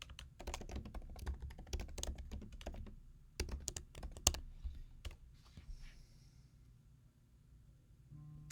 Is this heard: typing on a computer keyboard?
yes